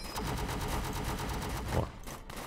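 Dense rapid gunfire from the war game World War Tower Defense, a loud sustained fusillade of overlapping shots that holds steady and then thins out near the end.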